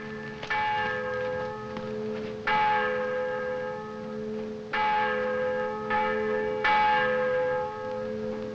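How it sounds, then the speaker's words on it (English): Church bells ring in a slow series of four or five loud, resonant strikes, each decaying into a long humming tone over a steady background hum. "See if you can stop those confounded bells."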